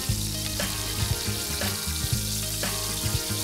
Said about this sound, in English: So I'm just going to lightly saute the onion.